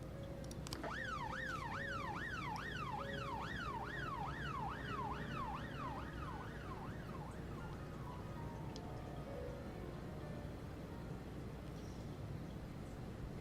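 Wailing ambulance siren in the police-management game This is the Police, rising and falling in a steady up-down sweep that peaks early and then fades over a constant low background hum, with no voices.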